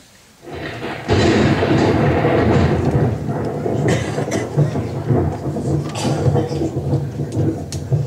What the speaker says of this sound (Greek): Ήτανε κεραυνός και αστραπή.